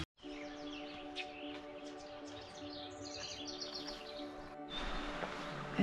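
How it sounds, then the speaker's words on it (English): Birds chirp and whistle along the West Fork trail in Sedona, several calls overlapping in quick bright phrases at moderate distance, soft and clear with little else around them. "You can just hear the birds chirping,"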